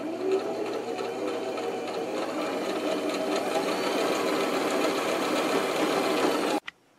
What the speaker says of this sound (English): So we're going to go ahead and sew this all the way around.